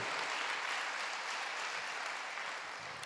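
A church congregation claps loudly and steadily, a dense, continuous wash of applause filling the room for about three seconds with no voices over it.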